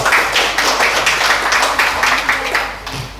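Applause for contestants at a Fahmil Qur'an quiz competition for girls in a village contest, loud steady clapping from a crowd filling the whole stretch and tapering slightly at the end.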